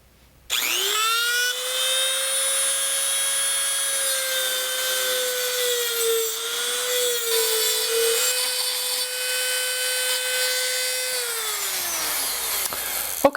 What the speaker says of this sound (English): I found what works the best is a Dremel tool with a cutoff wheel.